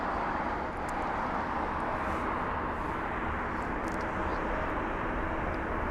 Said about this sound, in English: the Aer Lingus 320 Neo